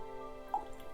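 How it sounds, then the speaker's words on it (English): A single faint drip of water lands in a glass of Dalmore 13-year-old cask strength whisky, a quiet, brief plink against a near-silent background. "I want to add a wee bit of water, a wee splash of water to this."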